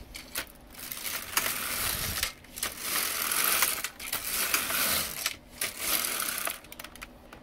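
Carriage of an LK 150 knitting machine being pushed across the needle bed to knit rows, a continuous loud mechanical rattling and clacking in repeated sweeps with brief pauses between passes, no talking.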